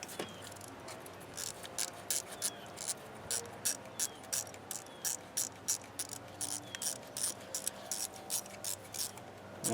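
A ratchet loosens a small 10mm bolt on a 2012 Chevrolet Malibu, giving close, rapid bursts of clicking in a steady back-and-forth rhythm, repeated many times over quiet background noise.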